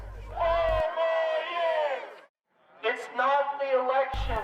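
Crowd of about a hundred supporters of the president rallying outside a hotel in Pennsylvania, with loud massed shouting and cheering voices in two bursts separated by a brief pause.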